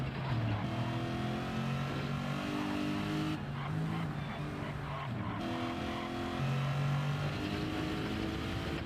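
A Lexus race car and a track-design Porsche race car on the Nürburgring in the NLS series, with loud, close engines revving hard through gear changes and a steady, high-pitched drone between shifts.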